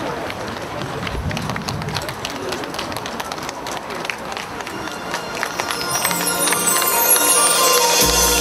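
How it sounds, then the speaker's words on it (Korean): Applause from the audience at a nationwide Korean singing contest, a dense, continuous clatter of clapping mixed with crowd noise that swells louder toward the end. "여러분 박수 보내주십시오"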